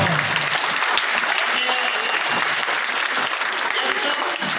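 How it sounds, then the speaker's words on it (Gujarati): Loud, sustained applause from a large audience at a primary school event, dense continuous clapping filling the whole stretch without a break. "એટલો બધો જોરદાર તાળીઓ બજાવો"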